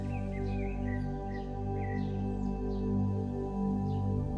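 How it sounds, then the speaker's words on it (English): Distant birds outside chirp in faint, scattered calls over a steady low humming drone. "his ears catching the distant chirps of birds outside"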